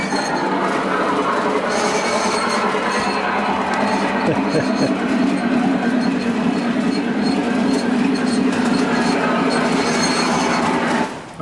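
A model train rolls steadily along its track, a continuous rumbling clatter with light wheel squeal that holds loud and close before easing off at a corner, with people chatting over it.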